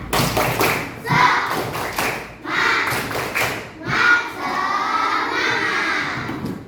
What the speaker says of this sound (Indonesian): Bapak Ibu mau tepuk semangat dulu. Tepuk semangat.